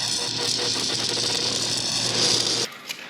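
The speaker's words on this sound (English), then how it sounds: "Put it in track mode, the exhaust valve opens, you obviously get that deeper note, more aggressive sound" Toyota GR Yaris with its bi-modal exhaust valve opened in track mode, a steady, loud, deep raspy drone held close for about three seconds, then cutting off sharply into near quiet.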